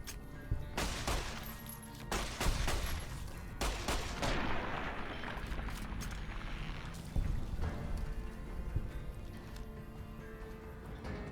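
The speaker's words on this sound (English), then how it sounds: "This time I just use my 9mm." A 9mm pistol fires repeatedly at giant ants in Fallout: New Vegas, sharp shots spaced irregularly over a dense, busy game-sound background with no talking.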